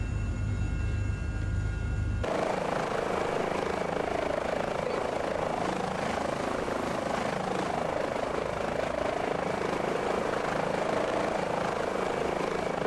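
A helicopter idles after a switch change in Microsoft Flight Simulator 2020, following a low droning hum at the start with a steady, sustained rotor and turbine whine that stays constant throughout.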